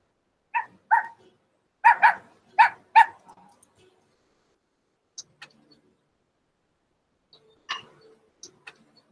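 A dog barks indoors: a quick run of about six loud, close barks in the first few seconds, then a few fainter, scattered yips and sounds later.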